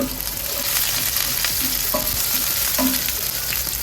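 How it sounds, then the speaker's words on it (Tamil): Onion and fennel are sautéed in a pan for Sri Lankan sambal rotti, giving a dense continuous sizzle with a few light stirring scrapes, close and steady, no voices. "வெங்காயம், நச்சீரம் போட்டு கொஞ்சம் வதக்குறீங்க."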